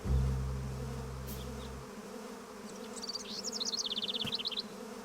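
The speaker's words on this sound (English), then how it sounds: "Their buzzing was so sweet, and they were always so busy collecting honey." Bees buzz in the video game Edna & Harvey: Harvey's New Eyes, a steady insect drone that swells into a rapid, fluttering buzz near the end, clear and alone after a brief low rumble at the start.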